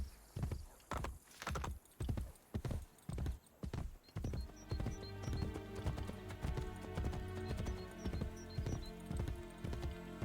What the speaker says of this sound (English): or ride a horse.